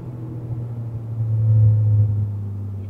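A modified Toyota GR Yaris engine rumbles low from inside the car while driving, swelling briefly in the middle and then settling back to a steady drone.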